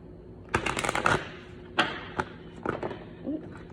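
Tarot cards being shuffled by hand: several quick papery riffles and flicks in short bursts, close and fairly quiet, with soft taps between them.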